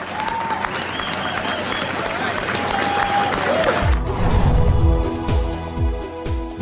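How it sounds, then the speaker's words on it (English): Audience applause breaks out at the public opening of Boston's Big Dig harbor tunnel, a steady wash of clapping that swells louder midway with low rumbling and crowd noise underneath. "Let's give them the round of applause that they deserve for building this project."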